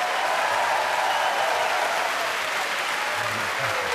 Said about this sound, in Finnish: Antakaa ihan valtavat jättimäiset aplodit.